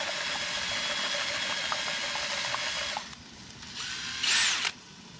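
A power tool mixing batter whirs steadily and loudly for about three seconds, cuts out, then revs again in a shorter burst before stopping.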